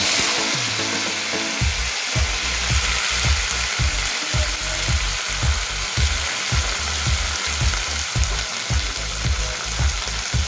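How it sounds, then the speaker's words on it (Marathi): Green chillies crackle and sizzle loudly in hot oil with curry leaves and asafoetida, a dense close-up frying hiss broken by a regular series of rhythmic scraping stirs. "तर ह्या मिरच्या थोड्याशा ह्या तेलावर असा मस्त तिथे फ्राय करून घ्यायचा"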